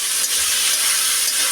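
Fish pieces marinated in salt and turmeric fry in hot oil, giving a steady, loud, close hiss and sizzle that fills the short stretch without pause.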